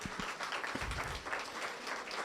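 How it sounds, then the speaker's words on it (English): Scattered audience applause at a town community center public workshop, a modest group clapping quietly and somewhat distant, steady for a couple of seconds with a few low thumps. "Please give them a round of applause."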